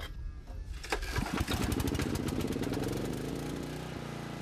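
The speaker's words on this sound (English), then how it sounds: "Start the generator." Generator engine cranking and catching, then settling into a steady, close, loud running drone.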